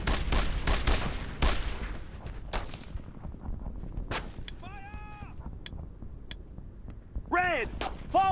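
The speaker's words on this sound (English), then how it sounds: "Find a way around the machine gun, okay." Machine gun fire in the World War II shooter Brothers In Arms: Road to Hill 30, with rapid, loud bursts packed into the opening seconds, then scattered single shots and impacts later, with shouted voices heard.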